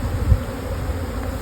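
Honey bees shaken into hive boxes with frames hum in a dense, continuous drone, close by and steady with no voices.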